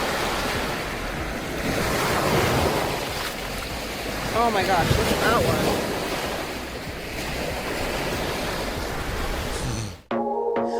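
Lake waves surge onto a rocky Ontario shoreline with fossils, a loud sustained wash mixed with wind noise while a person speaks briefly over it before the sound cuts off.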